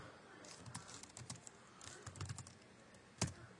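Soft, steady keystrokes on a computer keyboard while a search term is typed into a Mac's Spotlight field, close but quiet, ending in one sharper key press.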